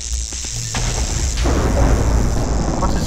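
A Minecraft explosion booms loudly at close range, setting off a heavy rumbling blast that spreads into a long, sustained roar after a few short knocks.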